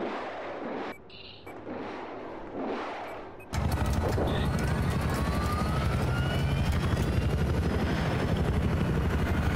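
A helicopter in the video game Battlefield 4 roars in as a dense, loud rotor and engine wash, following a few seconds of quieter breathy sounds and mixed with gunfire and battle noise.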